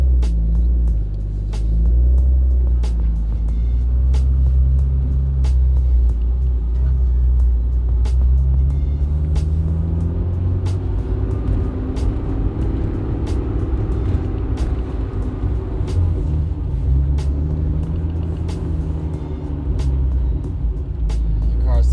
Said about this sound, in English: Now let's go for some turbo noises and go to a car meet.